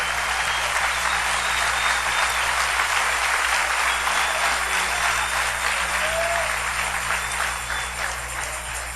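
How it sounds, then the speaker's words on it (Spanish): Congregation applauding in a church, a loud, dense, steady wash of clapping from many hands that fills the whole stretch without letup. "denle un aplauso al Rey bendito"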